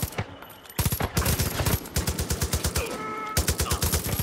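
Loud automatic gunfire in Far Cry 5, rapid rhythmic bursts of shots broken by short pauses.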